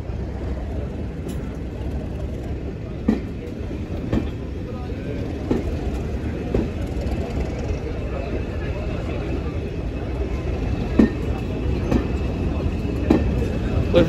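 Diesel locomotives and train cars of the Swanage Railway at Corfe Castle, heard as a steady low rumble with occasional clanks and wheel clicks, at moderate distance and continuous throughout.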